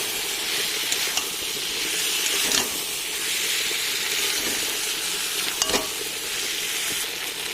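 Already-fried potato, egg and eggplant get stir-fried together in a pan, giving a continuous loud sizzle and hiss with occasional scraping clicks of a spatula stirring, and no talk.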